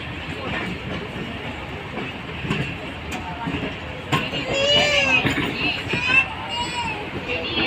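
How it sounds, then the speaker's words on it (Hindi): Pak Business Express passenger train running on rails between Hyderabad and the next station in Pakistan, with a steady rolling rumble and rattle throughout, people talking over it and sharper squeals toward the end. "ट्रेन"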